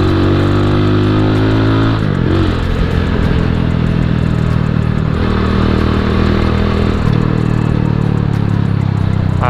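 A Rusi Classic 250 motorcycle idles and revs loudly up close, its steady engine drone shifting pitch a few times, with no voices.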